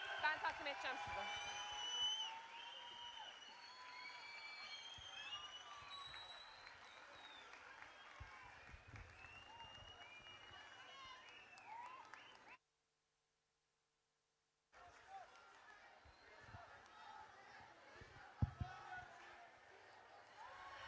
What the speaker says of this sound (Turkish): Hadi şöyle kocaman bir alkışla karşılayalım Sayın Başkanımızı.